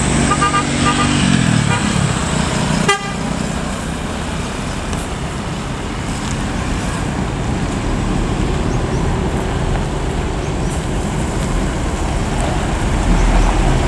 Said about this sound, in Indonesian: Menunggu padatnya lalu lintas, didominasi truk-truk pengangkut barang dan pengangkut batu bara ya.